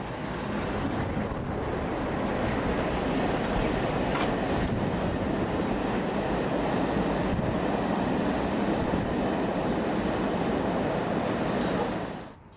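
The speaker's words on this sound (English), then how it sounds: "The XP64 liveried Riviera trains, Class 47, is hauling a unit from Fern Park to Wimbledon" A British Rail Class 47 diesel locomotive in XP64 Riviera Trains livery hauls a unit past, a loud sustained rumble and roar of engine and wheels, steady throughout and fading only at the very end.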